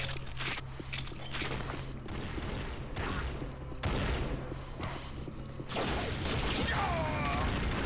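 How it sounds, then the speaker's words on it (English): Bio rifle shots and weapon clatter in the video game Unreal Tournament, a busy run of broadband bursts and mechanical clicks over a constant game backdrop. "One bio rifle shot killed that guy?"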